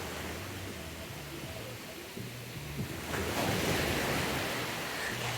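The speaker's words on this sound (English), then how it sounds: "Always count on the waves getting your valuables." Ocean waves break on a Costa Rica beach in a steady, hissing wash of surf with some wind noise; the roar swells louder partway through as a wave rushes in.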